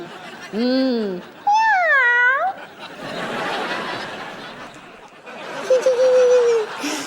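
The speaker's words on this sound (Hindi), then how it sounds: "ये बुलबुल बिल्ली।" A cartoon cat gives two drawn-out, wavering meows close up, one after the other, followed by a stretch of busy background noise and a brief high voice tone.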